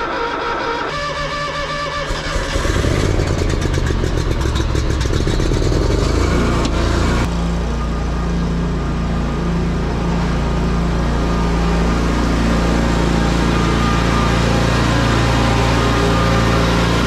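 A Bobcat Predator Pro mower with a leaf bagging system cranks and catches after the choke is pulled, then settles into a loud, steady engine drone close by.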